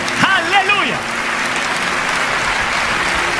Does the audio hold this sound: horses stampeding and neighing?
no